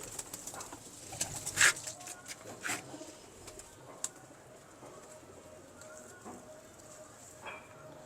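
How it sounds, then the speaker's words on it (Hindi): Lakhi breed pigeons coo softly and repeatedly nearby, mixed with occasional sharp clicks and wing or perch noises against a quiet, slightly hissy background. "गर्मी में उड़ने वाले कबूतर हैं ये।"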